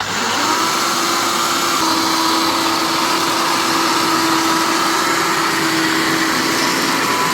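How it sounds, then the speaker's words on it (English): A kitchen blender grinding millet grains into flour, a continuous high whirring motor roar with a gritty rattle of grain, steady and close for several seconds with no speech. "I'm going to put it in the blender"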